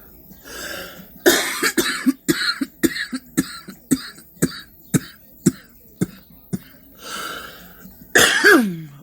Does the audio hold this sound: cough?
yes